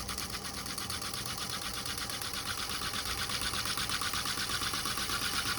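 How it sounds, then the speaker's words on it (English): A lathe spun up to a higher speed while turning a small titanium lid for an Evernew 570 mL pot, a steady fast whir with a rapid rhythmic patter, close and without talk. "We're gonna speed up the lathe a little bit."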